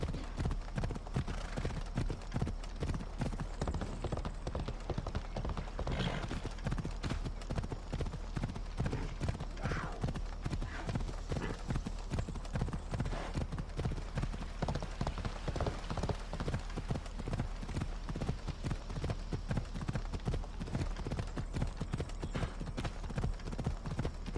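A horse's hooves clip-clop in a fast, steady rhythm on the ground in Assassin's Creed Odyssey, loud and continuous throughout with no speech.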